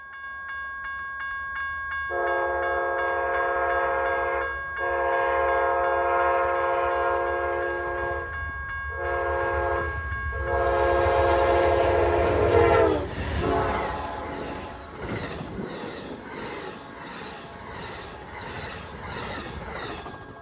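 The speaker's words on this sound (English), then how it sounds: "Amtrak whizzes by at 85 miles per hour, leaving nothing but an amazing K5LA Doppler" Amtrak passenger train racing past a lonesome rural farm crossing at 85 mph, its K5LA horn sounding several long chord blasts that bend downward in Doppler as it passes close, followed by loud rushing wheel and car clatter fading away.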